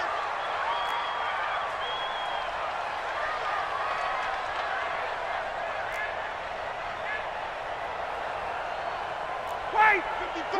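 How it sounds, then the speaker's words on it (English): A stadium crowd in the Madden NFL 20 video game keeps up a steady cheering roar under commentator talk, with a brief sharp thud near the end. "The crowd getting into it as we come up on a big 3rd down."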